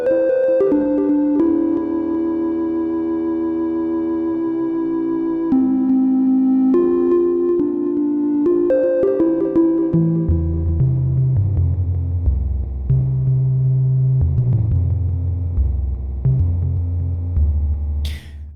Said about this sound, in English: all this is just done with a simple sine wave